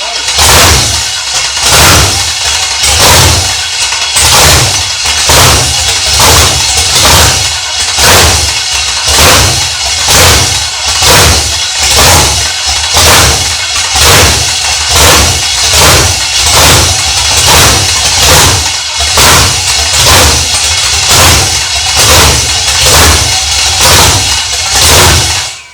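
A GMT400 truck with a swapped-in LS V8 long block cranks on the starter without firing, a loud, steady rhythmic chug repeating evenly for a long stretch with no catch or idle.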